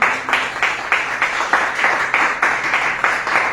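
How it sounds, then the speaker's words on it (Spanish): A church congregation applauding during a Spanish-language sermon, steady rhythmic clapping from many hands filling the room, loud and continuous with a faint murmur of voices beneath. "Den un aplauso a Dios, hermano."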